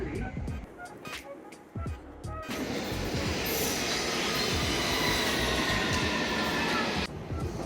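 A London Underground tube train rumbles and roars steadily at close range, with wheel noise and clatter building into a sustained loud drone, after brief clunks and a voice at the start.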